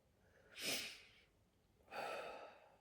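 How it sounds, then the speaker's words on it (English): Two heavy, close breaths from a player worn out by a strenuous Portal game challenge, each a sharp rushing gasp followed by a slow fading exhale, with a pause between them. "Okay, slow the breathing down."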